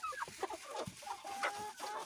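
Roosters cluck in short, soft bursts while pecking at scattered sunflower seeds on a farm, a few quick calls overlapping at moderate distance.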